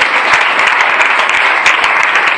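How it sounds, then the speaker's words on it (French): Church congregation clapping during a worship service, a dense, steady burst of applause close by that fills the room throughout. "Est-ce qu'on peut acclamer le Seigneur?"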